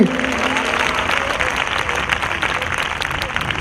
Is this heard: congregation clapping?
yes